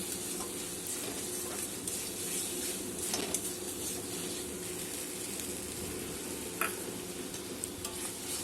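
Tomato, green chili, cumin and coriander masala frying in a pan for chana paneer, a continuous close sizzle with repeated scraping stirs and a few clinks, no voices.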